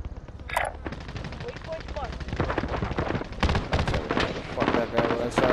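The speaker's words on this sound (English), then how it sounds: "They're up top sniping me." Fast machine-gun fire and sharp shots in a first-person shooter, with enemies firing from up top and an LC10 in use, dense bursts building in loudness through the clip while a player talks over it.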